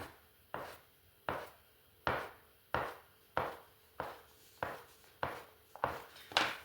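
A knife cuts through soft cookie dough on a board in a steady series of about a dozen crisp, close chopping thuds.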